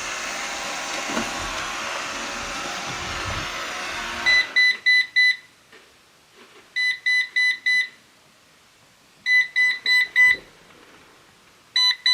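A loud whirring hum from a Eufy RoboVac 11 robot vacuum with a roller brush not spinning cuts off, then repeated short electronic beeps follow in quick clusters of three or four, separated by brief pauses.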